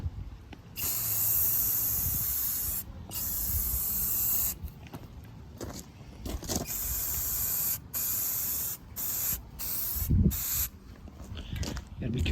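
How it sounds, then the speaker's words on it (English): An aerosol can sprays black paint onto classic Ford Bronco trim in loud, hissing bursts of varying length separated by short pauses, recorded close. "we are now about to hit the other new spray on here"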